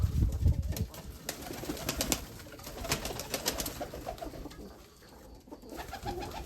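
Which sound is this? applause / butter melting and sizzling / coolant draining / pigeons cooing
pigeons cooing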